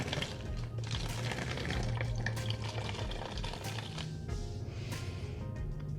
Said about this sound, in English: I'm going to take my 1/2 cup of hydrogen peroxide, which I've already poured in my measuring cup, and pour that into the funnel into my plastic bottle